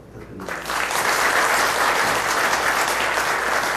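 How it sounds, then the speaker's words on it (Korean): An audience at a Buddhist service for university staff bursts into sustained applause, rising quickly and holding loud and dense for several seconds. "송정구 명예 교수님께 다시 한번 큰 박수 부탁드립니다."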